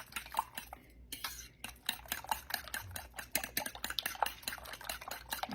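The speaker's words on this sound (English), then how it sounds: "And we're going to stir this up." Eggs mixed with cheese, salt and pepper are stirred briskly, a utensil rapidly clicking and tapping against the bowl in a quick, uneven rhythm, close and fairly quiet.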